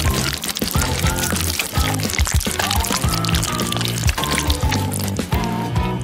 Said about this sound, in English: I need to melt the Baskin-Robbins and pour it out.